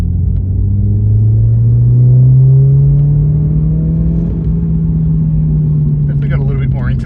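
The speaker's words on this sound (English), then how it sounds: "Definitely got a little bit more intake noise." A BMW 1 Series drift car with its airbox lid removed gives a loud, close engine drone with a deep intake rumble that rises slightly and then holds. A voice starts speaking near the end.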